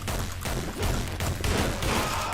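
Several loud, close gunshots in a video game, arriving in quick bursts with no voices over them.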